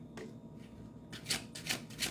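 Tarot cards being shuffled by hand, a few soft papery riffles in quick bursts, close and quiet with no talking.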